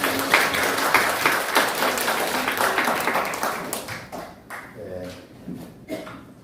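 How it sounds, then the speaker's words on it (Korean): Applause from a church congregation during a Sunday service, dense clapping that fills the first half and then thins out into scattered claps and quieter stray sounds. "영광의 박수를 주십니다."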